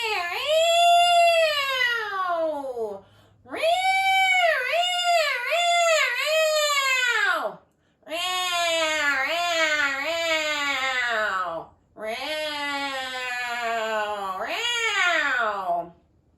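A human voice imitates a cat's yowl in four long, wavering, drawn-out cries separated by brief pauses, loud and close.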